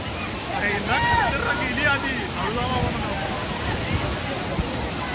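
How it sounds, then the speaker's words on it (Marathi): Steady rushing roar of a waterfall at Bhudargad, loud and close, with people talking and calling out over it. "धबधबा बघा केवढा"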